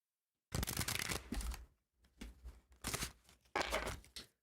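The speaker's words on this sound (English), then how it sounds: "Let's do another shuffle here." Tarot cards shuffled by hand in four quick riffling bursts with short pauses between, crisp papery flutters heard close and alone.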